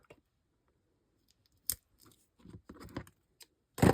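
Scissors snip pieces of paper for a handmade Christmas card, a few sharp close cuts in short bursts separated by quiet pauses, the last snip loudest, no talking.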